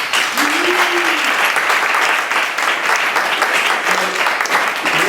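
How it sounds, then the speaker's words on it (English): Steady audience applause at a business coaching presentation, dense and loud throughout with a few brief voice fragments rising over the clapping. "Let's give her a round of applause"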